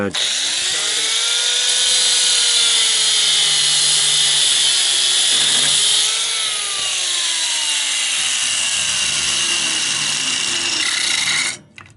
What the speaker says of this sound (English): once you grind the heads off